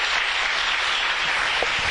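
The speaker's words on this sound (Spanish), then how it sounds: "Denle un buen aplauso al Señor, por favor." A church congregation at a Spanish-language Bible study breaks into loud, sustained applause, a dense steady wash of clapping that fills the whole moment without any talk.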